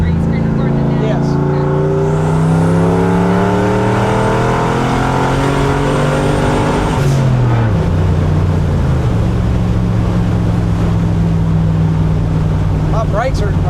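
A turbocharged 1976 Ford F250 truck engine runs loud and close, its low drone rising and falling as it revs and shifts, with occasional voices underneath.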